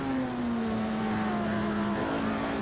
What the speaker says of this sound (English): I think I just got passed by a Ferrari.